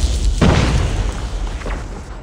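Semtex grenade blast in the mobile shooter Call of Duty: Mobile, one close heavy boom with a deep rumbling tail that rolls on for about two seconds.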